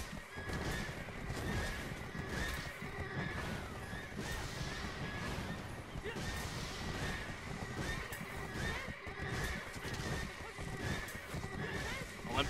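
A horse neighs and whinnies amid clip-clopping hooves and busy game-like noise in a Black Desert Online console siege, with people talking over the top throughout.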